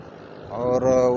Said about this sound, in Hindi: अभी भी ट्रैक्टर चालू है,